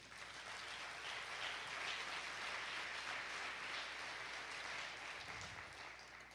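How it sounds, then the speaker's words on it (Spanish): A church congregation claps for the Lord during a Spanish-language sermon, a steady, fairly faint wash of applause that holds evenly for several seconds before easing slightly at the end. "Dale un aplauso al Señor, hermano"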